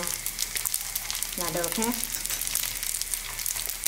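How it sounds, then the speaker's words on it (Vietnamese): Leftover cooked rice frying in oil in a pan makes a steady, close crackling sizzle throughout, while someone speaks briefly over it. "Các bạn chiên cho đến khi các bạn thấy là cơm đã vàng giòn"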